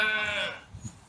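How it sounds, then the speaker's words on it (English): A sheep gives a single short bleat, its wavering voiced cry fading out after about half a second, leaving quiet low rumbles. "So if you hear random sheep noises, know that Tracey is also very excited about"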